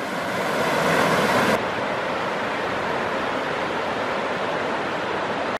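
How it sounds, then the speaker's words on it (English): The White River rushes beside a forest hiking trail near Enumclaw, a loud, steady broadband roar of flowing water that drops slightly in brightness early on, then continues unbroken. "This is the White River we're hiking along here."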